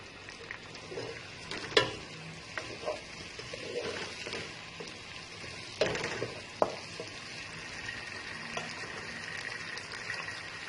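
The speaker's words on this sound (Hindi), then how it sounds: "इन दोनों चीजों को भी हम अच्छी तरीके से सौते कर लेते हैं" Mixed vegetables sautéed in a pan, dhaba style, give a steady low sizzle with scattered clinks and scrapes of stirring and a few sharper knocks, no voices over it.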